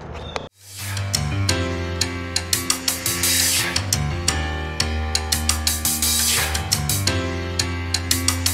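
Big bolts come off a vehicle hub under a power tool, a sustained whirring with repeated sharp rattling clicks at a quick, uneven rhythm, loud and close.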